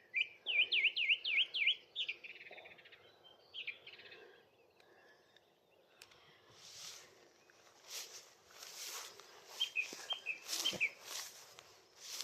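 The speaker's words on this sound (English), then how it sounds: "Song thrush." Outdoors, a song thrush sings repeated, quick-fire phrases, loud and close at first, then fainter notes among rustling and other soft bird calls.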